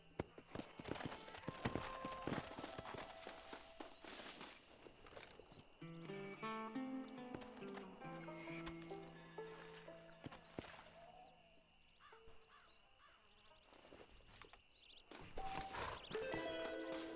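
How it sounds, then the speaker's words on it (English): Horse galloping in the video game Red Dead Redemption, faint rhythmic hoof clip-clop under game music and ambient sounds, quiet and distant in the mix. "Come on, horse, you can make it."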